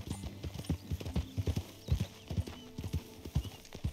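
Hooves of a horse in the video game Red Dead Redemption 2 clip-clop in a steady walking rhythm, close and distinct, with a low whinny and snorting woven between the footfalls.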